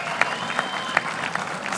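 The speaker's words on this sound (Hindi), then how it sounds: "बहुत सारी तालियां" A studio audience on a Pakistani cricket talk show claps in a dense, steady patter, with a few sharper claps standing out and no pauses.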